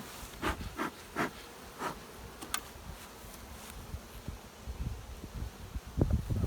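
Honey bees around an opened hive during requeening, individual bees buzzing past close by in short bursts over a quiet outdoor background, with a few soft rustles and knocks near the end.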